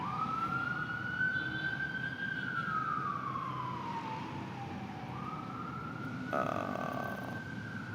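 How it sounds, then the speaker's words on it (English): An emergency vehicle siren wails outside, a single continuous tone slowly rising and falling, heard at a moderate distance over steady background hum. "Can you guys hear that siren?"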